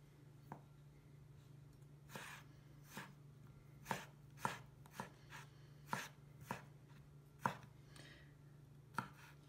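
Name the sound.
knife cutting asparagus at an angle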